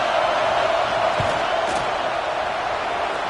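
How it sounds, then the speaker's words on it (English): Football stadium crowd roaring steadily during a field goal attempt in Georgia, a loud continuous wash of yelling voices that holds level throughout with no clear breaks. "This crowd trying to do its part to get inside the kicker's head"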